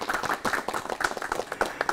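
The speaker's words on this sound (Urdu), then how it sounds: "تو میں آپ کا بھی سواگت کرتا ہوں، اپنے لیے تالیاں خود بجائیں۔" Students at a career programme clap for themselves, a small group giving a brief, close, uneven patter of applause with no voices over it.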